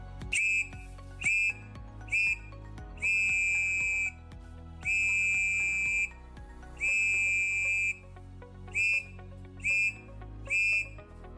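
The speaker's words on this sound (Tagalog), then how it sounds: "Pumito ng 3 maiksing tunog gamit ang iyong pito." A handheld safety whistle gives a distress call as a series of shrill, piercing blasts, some short and some held longer, sounded in small groups with pauses between. The blasts are loud, clear and heard alone.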